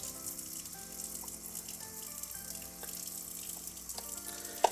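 Liquid poured out of a film developing tank during home film processing, a steady wet splashing and trickling close by, fairly quiet and continuous, ending in a brief sharp clunk.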